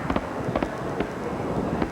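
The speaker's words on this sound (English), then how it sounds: "fireworks displays that took place along the harbor in Toronto, the waterfront" Fireworks display over the Toronto harbour waterfront, a rapid volley of loud crackling bursts and booms in quick irregular succession, heard fairly close with no talking.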